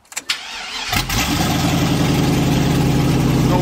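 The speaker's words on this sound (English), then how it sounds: "This thing starts good in cold weather." A 1957 Chevy engine cranks briefly in cold weather, catches and settles into a loud, steady, close idle with a low rumbling pulse.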